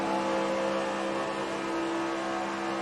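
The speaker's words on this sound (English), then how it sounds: "Engine screaming." A Winston Cup stock car at Texas World Speedway screams at high revs, a loud steady tonal engine wail heard close from onboard and holding constant for the whole stretch.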